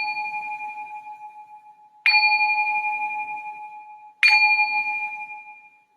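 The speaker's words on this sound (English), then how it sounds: "So I'm just going to ring the bell to signal the start of this first meditation." A meditation bell is struck three times at the start of a Buddhist meditation session, each strike ringing clear and close before a long, slowly fading tone in an otherwise quiet room.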